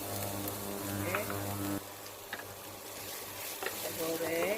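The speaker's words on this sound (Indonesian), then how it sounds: "kita goreng." Ingredients sizzling in a frying pan as they are sautéed, a steady crackling hiss with a low hum that drops away partway, plus occasional utensil clinks, close and moderately quiet.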